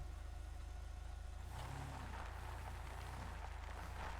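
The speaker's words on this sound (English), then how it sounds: "You hear that V8 engine in that thing?" Rumbling V8 engine of a police vehicle in GTA 5, idling steadily and then revving up louder partway through, with a dense low growl continuing throughout.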